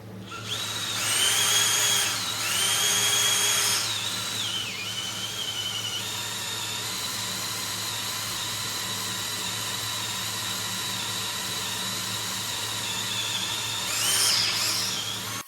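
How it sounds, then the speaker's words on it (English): A drill bores a 10mm pilot hole through a JCB tool carrier headstock, a steady high whine with bursts of strain early on and again near the end, running alone without talk. "I'm drilling a smaller hole through to start with to make it a bit easier"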